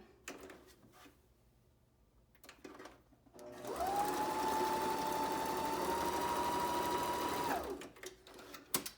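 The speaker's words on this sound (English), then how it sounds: "you can just run a second straight stitch right beside it" A sewing machine runs a straight stitch on a fabric mask in one steady, loud whirring burst lasting about four seconds, with quiet handling noise before and after.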